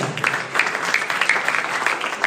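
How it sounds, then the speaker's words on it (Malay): Applause from an audience at an evening performance event, welcoming three judges who are former students; a dense, steady patter of many hands clapping together at moderate loudness, with no talk over it. "Beri tepukan gemuruh kepada mereka"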